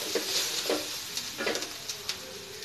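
Plantain stir-fry with grated coconut being stirred in a pan, a faint sizzle with soft, irregular scraping strokes and taps of the spoon against the pan, heard alone and close.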